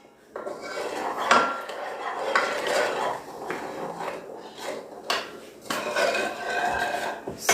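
A utensil scrapes and clatters steadily around the inside of a cooking pot while the food is stirred, near and fairly loud, with a few knocks against the pot and no talking.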